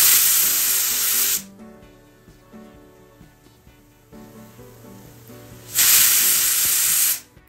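Two loud bursts of hissing steam from a pressure cooker whistle cooking vegetable soup, about a second and a half each, frame a quieter stretch of soft background music.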